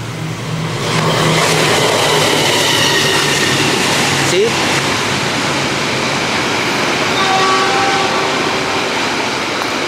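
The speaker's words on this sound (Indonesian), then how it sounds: "pasti ada terdengar kereta lewat" A train roars past very close to a cafe in Yogyakarta, a loud continuous rush of wheels and rail noise lasting several seconds with faint squeals.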